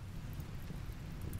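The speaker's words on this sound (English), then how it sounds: "yeah, here comes the rain" Rain falls with low thunder in the RimWorld video game, a quiet, continuous rumbling wash of noise with no distinct drops or claps standing out.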